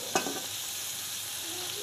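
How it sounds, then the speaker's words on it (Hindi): Cabbage, onion, tomato and capsicum fry in a pan, giving a soft, steady sizzle, with a brief stirring scrape near the start; the sound is quiet and continuous, without voices. "इन सबको ऐड करके अच्छे से फ्राई करनी है"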